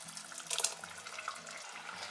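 Ground spice paste being poured into a simmering beetroot curry, a soft wet gurgling stream of liquid with no talk over it.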